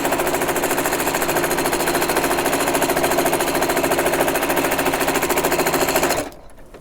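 A sewing machine runs steadily, stitching quilted fabric for an oven mitt, with a loud fast even whir-and-clatter that carries alone for about six seconds and then stops abruptly.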